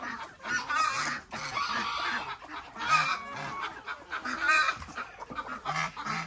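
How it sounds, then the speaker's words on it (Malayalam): Ducks and geese on a Kerala poultry farm honking and quacking in overlapping bursts, close and fairly loud, with no talk over the calls. "ഇപ്പോൾ ഏറ്റവും കൂടുതൽ താറാവുള്ള പോലെ ആയിപ്പോയി."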